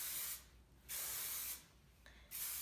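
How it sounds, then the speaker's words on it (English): Hair spray from an aerosol can hisses onto curled hair from underneath in three steady bursts separated by short pauses, close and fairly quiet. "just kind of give it a spray it from underneath"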